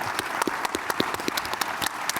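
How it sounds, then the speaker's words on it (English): Audience applause for the panelists at a national security summit: a modest crowd clapping at moderate distance, steady and fairly soft, with individual claps standing out from the wash. "Please join me in a round of applause for the panelists here"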